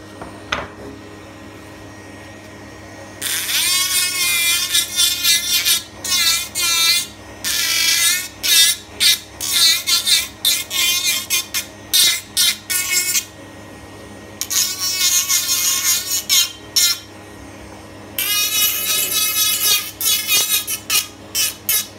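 A lab handpiece bur trims the overextended borders of a dental spaced special tray, giving a high, whining grind in repeated bursts of a second or two, close and fairly loud, with brief pauses between passes.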